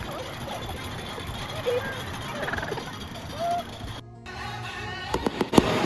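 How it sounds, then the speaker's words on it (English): Fireworks show over a Korean baseball stadium, a steady wash of crowd and music noise broken by a brief gap, then several sharp bursts and crackling pops near the end. "Basically it's just a fireworks show and a little bit of a concert."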